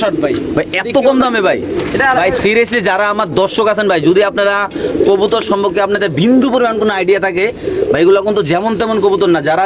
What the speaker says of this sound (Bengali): একদম সুস্থ সবল অ্যাক্টিভ কবুতর